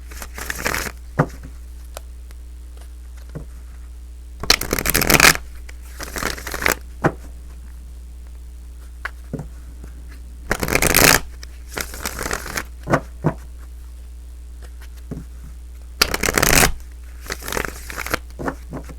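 Tarot cards being shuffled for a love reading, with repeated bursts of crisp riffling and crackling separated by quiet pauses over a steady low hum, close to the microphone, no speech.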